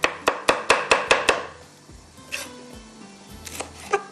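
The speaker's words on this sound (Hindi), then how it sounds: "इसको वेजिटेबल को चॉप करके ये मैं इसमें आधी डालूँगी" Knife chopping vegetables on a board in a home kitchen for steamed butter rice: six quick, evenly spaced sharp chops close by, then softer scattered cuts and clicks.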